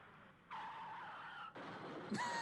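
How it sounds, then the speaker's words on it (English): Loud tire screeching from a skidding car, two sustained squeals with a brief break, ending in a sharp higher squeal; no clear impact follows. "Love a good car crash into the wall."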